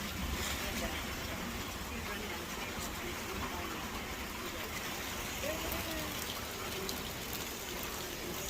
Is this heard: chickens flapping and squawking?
no